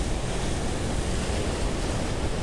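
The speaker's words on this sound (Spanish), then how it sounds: "Miren el oleaje, está fuerte" Strong surf breaking against a rocky shore during a fishing tournament, a continuous loud roar of churning water with wind buffeting the microphone and no voices.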